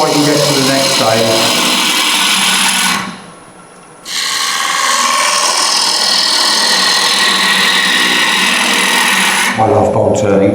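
Wood is turned away on a lathe, a steady loud scraping and rasping of the tool against the spinning workpiece that stops briefly and then resumes.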